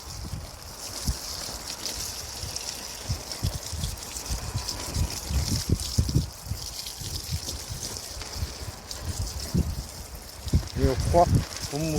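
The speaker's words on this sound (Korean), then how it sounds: "고압 동력 분무기." A motor-driven high-pressure power sprayer waters a garlic field, giving a steady hissing spray and water rush with low mechanical rumble and some thumps, continuous throughout, with speech partly over it.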